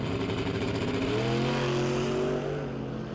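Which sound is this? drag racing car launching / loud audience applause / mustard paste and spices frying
drag racing car launching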